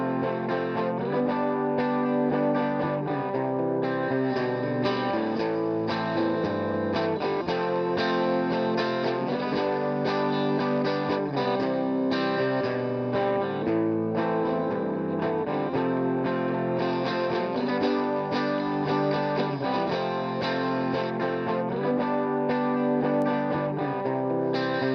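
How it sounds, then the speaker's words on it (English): Electric guitars in a full band mix, first dull and then brighter with a high boost added, dense distorted chords layered with other instruments, loud and continuous throughout. "This is going to add a ton of brightness and cut to our electric guitars."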